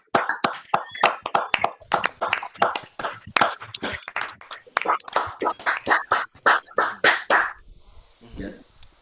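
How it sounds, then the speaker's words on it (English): Scattered hand claps from an online audience at a Black History Month talk, uneven and close-miked, patter as a steady run of separate sharp taps before fading out. "give her a round of applause"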